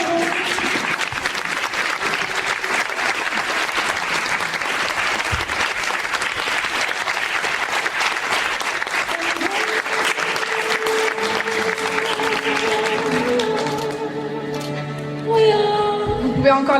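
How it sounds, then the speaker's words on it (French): Sustained applause from a gala audience at a beauty pageant, dense and steady clapping filling most of the clip before thinning out, with music and a voice emerging near the end. "Vous pouvez encore les applaudir."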